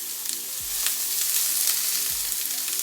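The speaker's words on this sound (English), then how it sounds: "by sauteing the veg next to it, giving all that flavor, peppers as well" A vegan burger sizzling in a pan beside sautéing peppers, a steady close crackle and hiss with a few louder pops, with no voices.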